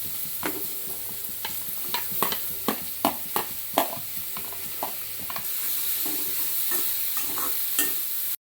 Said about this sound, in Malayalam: എണ്ണ ചൂടായി കഴിയുമ്പോൾ ആദ്യം നമുക്ക് ഈ പച്ചമുളക് ചാച്ച് വെച്ചിട്ട് പച്ചമുളകും പോകട്ടെ അടുത്ത സവോള ഇടാം